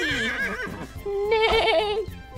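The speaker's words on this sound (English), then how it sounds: "Oh, a horsey." A horse gives a loud, close neigh in two wavering whinny bursts with a short gap between them.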